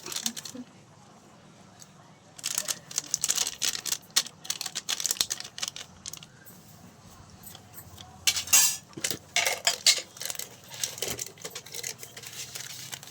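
Spoon stirring chicken masala and garam masala with ginger and coriander in a metal dish, giving quick scraping clinks in uneven bursts, close up, with some talk in between.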